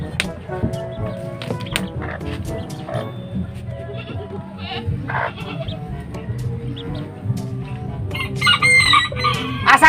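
Chickens cluck and squawk among a busy mix of animal noises, with people talking and shouting over it close by.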